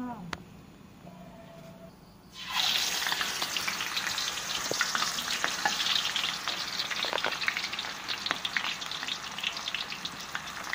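Green bananas and pandan leaves drop into deep oil, which bursts into a loud, continuous crackling sizzle with scattered pops after a quieter start.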